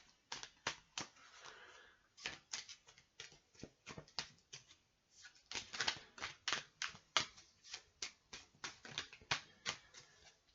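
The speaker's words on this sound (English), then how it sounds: "So I'm just gonna shuffle up the cards quickly." Cards for a wrestling card game being shuffled by hand, heard as quick bursts of crisp riffling snaps in an irregular rhythm, close and fairly quiet, with no talk.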